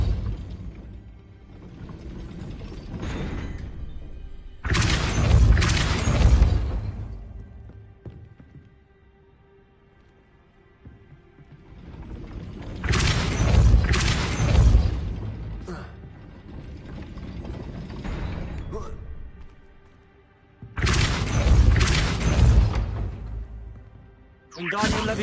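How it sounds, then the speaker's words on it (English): Heavy gate mechanism in Hogwarts Legacy being raised by a spell: repeated loud bursts of grinding, ratcheting gears and clanking chains, separated by quieter stretches, with a low mechanical rumble between them. "That looks as if it might raise the gate"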